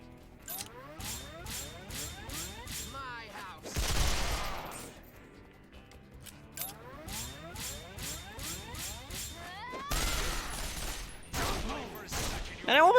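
Gunshots in the Resonance of Fate video game on PS4, bursts of rapid rattling fire alternating with heavy booming blasts, mixed with mechanical clicks and game effects over about thirteen seconds.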